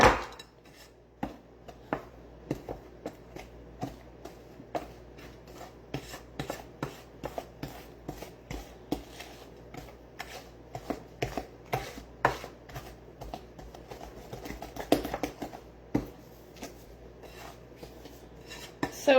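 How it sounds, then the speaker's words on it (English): A spoon scrapes and knocks steadily as cookie dough is stirred by hand in a bowl, a quiet run of close, irregular clicks and rubs with no talking. "Just have to stir it extra longer, that's all."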